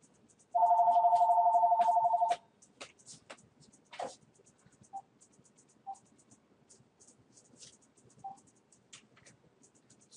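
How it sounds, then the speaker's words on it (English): A telephone rings once in a long trilling burst, loud and close, followed by a quiet room with scattered clicks and small knocks. "I'll get the phone."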